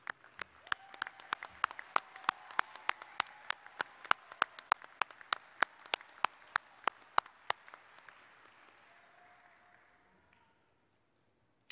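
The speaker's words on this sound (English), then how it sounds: "Stand and applaud your family." A crowd at a college precommencement ceremony applauds with steady clapping that builds, holds for several seconds, then thins out to a few scattered claps before fading to silence.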